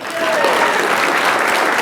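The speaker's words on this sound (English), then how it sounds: "Give him a big round of applause for Billy." An audience gives loud, continuous applause for a volunteer called to the stage at a motivational talk, a thick burst of clapping with crowd noise and possible voices mixed in.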